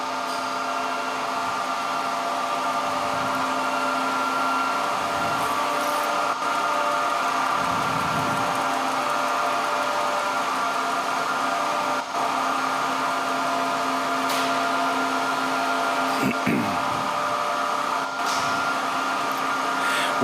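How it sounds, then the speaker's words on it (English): Alexanderson alternator at the SAQ Grimeton longwave radio station spinning up to speed, a loud continuous mechanical hum and whine with steady tones and occasional faint clicks, no talking. "The alternator will then start to generate a radio wave"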